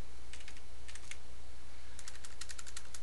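A password is typed on a computer keyboard, with soft, quick key clicks arriving in two short bursts separated by a pause, close and clear over a faint steady hum.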